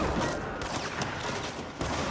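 Gunfire aimed at the player in the video game Control, a dense crackle of rapid shots with a few sharper bursts, moderately loud over a busy background.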